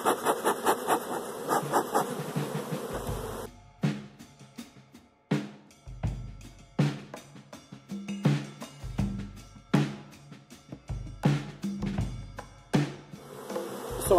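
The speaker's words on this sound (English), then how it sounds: "there's more than enough bees in this hive to keep everything warm" Honeybees in an open hive during a spring brood nest inspection give a steady, close drone, then repeated sharp knocks and scrapes break in at an irregular rhythm.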